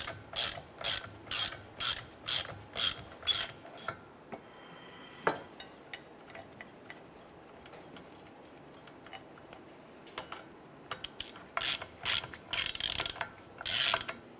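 A ratchet snugs down the rear driveshaft coupler bolts on a 2005-2010 Chrysler 300: quick bursts of close ratcheting clicks in rapid repeated strokes, a quieter pause in the middle, then more ratcheting, with no talk.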